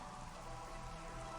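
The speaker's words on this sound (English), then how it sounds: "It's a nice rain effect with the glossy surfaces" Steady rain from Metroid Prime Remastered falls on glossy surfaces as a faint, continuous hiss of pattering drops with no talking.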